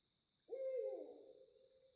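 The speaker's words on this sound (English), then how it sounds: "There's an owl hooting." A single owl hoot, a low wavering call that starts abruptly and trails off slowly, alone against a faint steady high hum in a quiet night.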